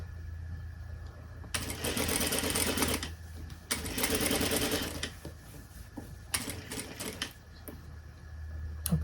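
A sewing machine stitching a blouse sleeve seam runs in three bursts of rapid, even stitching, each a couple of seconds long, separated by quiet pauses, close and clear.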